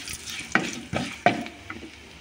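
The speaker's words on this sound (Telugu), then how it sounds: "దోసకాయ పచ్చడిలోది తాలింపండి ఇది." Tempering for cucumber chutney frying in a pan with a pinch of turmeric added, giving a soft, steady sizzle broken by three sharp stirring scrapes or pops, close and fairly quiet with no talking.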